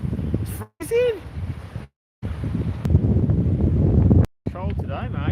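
Cold wind buffets the microphone outdoors in loud, rumbling gusts that cut in and out, while people talk over it.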